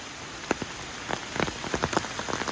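Steady rain falls outdoors, a dense hiss of drops striking the ground and nearby surfaces with scattered louder individual splats, continuous and close throughout.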